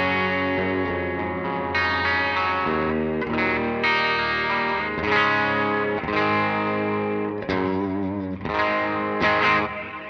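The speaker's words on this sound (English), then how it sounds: "now this reverb is only on the Fender, which I call the wet amp" A guitar through a Fender amp with a Hall of Fame reverb pedal plays a sustained, effects-laden passage of ringing chords and notes with a lush tail, steady and moderately loud, with no talking.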